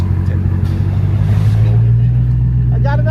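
A Dodge Charger Hellcat fitted with an aftermarket exhaust rumbles at a deep, steady idle nearby, and a voice speaks briefly near the end.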